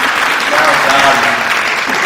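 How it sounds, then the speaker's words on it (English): A large audience claps at a literary festival poetry session, steady, dense applause filling the room, while a voice briefly speaks over it partway through. "Let's give them a big round of applause."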